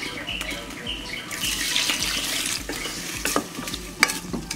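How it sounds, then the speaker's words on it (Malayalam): Water is poured into a cooking pan for a semiya (vermicelli) dessert with milk, cardamom and sugar, with stirring. A close, steady splashing and scraping runs throughout, and no one speaks. "ഇനി വെള്ളം ഒഴിക്കുക."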